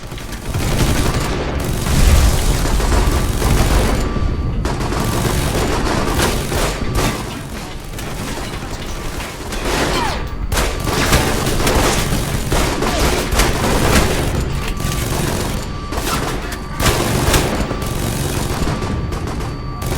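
Sustained turret gunfire in the video game Alpha Protocol, loud rapid bursts and overlapping shots hammering almost nonstop with brief gaps, dense and close.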